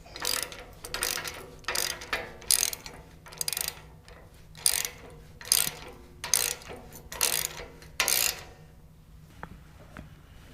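A ratchet tightens bolts with nylock nuts on a Harbor Freight toolbox welding cart, about nine bursts of rapid clicking, each lasting a second or so, separated by short pauses.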